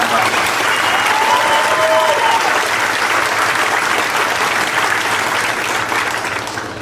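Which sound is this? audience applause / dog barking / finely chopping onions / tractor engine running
audience applause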